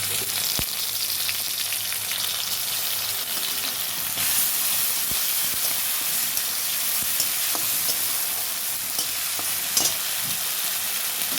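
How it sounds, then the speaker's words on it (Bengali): Onions fried until reddish with a ginger-garlic-onion paste in a pan give a steady, close sizzle and crackle throughout, with faint stirring scrapes and no voices. "দেখুন পেঁয়াজটা একটু লাল লাল করে ভাজা হয়ে গেছে"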